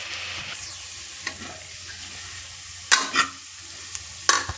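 Coriander and turmeric powder sautéing in a pan for a fish head curry: a soft, steady sizzle under a few sharp scraping stir strokes near the end.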